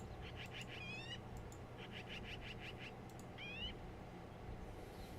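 Chirpy bird calls from a tabletop bird game's companion app: repeated short rising whistles and trills in quick bursts, moderately clear over a steady low hum.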